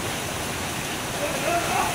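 A waterfall at a rocky secret falls site in DRT, Bulacan sends up a steady, even roar of rushing water close by, broad and continuous with no pauses.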